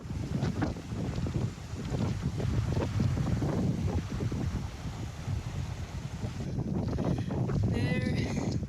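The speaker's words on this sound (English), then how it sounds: "So this is literally the windiest hike I've ever been on." Strong wind on a solo mountain hike in South Africa: heavy, gusty buffeting pounding the microphone almost throughout, with a brief lull near the end where a faint rising whistle comes through.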